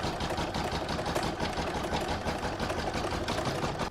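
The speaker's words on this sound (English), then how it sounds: "I'm now going to stitch round 2, which is going to secure my fabrics to the hoop" Embroidery machine stitching a round that secures fabric and batting to the hoop for a Christmas star design; a steady, dense mechanical whirring runs close and continuous throughout with no talk.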